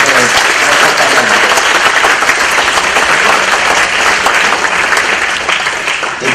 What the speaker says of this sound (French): Donc je vous demanderai de bien applaudir notre